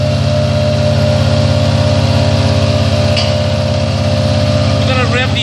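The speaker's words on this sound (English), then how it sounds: "We're gonna rev the engine up." The engine of an Amtex Marine 4047 APO machine runs steadily up close, a loud constant mechanical drone with a buzzing hum and no break in level.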